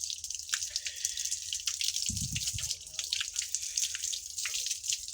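Water splashes and trickles steadily over a bicycle being washed, a continuous close spatter with a brief dull thump in the middle.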